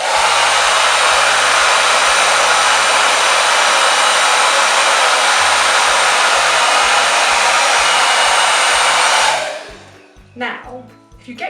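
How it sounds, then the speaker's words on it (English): A hair dryer blows on its hottest setting, a loud, steady rushing whoosh for about nine seconds before it cuts off, leaving faint handling sounds. "you aim the hairdryer on its hottest setting, in at the roots"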